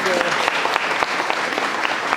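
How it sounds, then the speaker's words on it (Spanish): Audience applause at a church confirmation ceremony, steady clapping from a room of people lasting a couple of seconds, with a faint voice briefly audible at the start. "Aplausos."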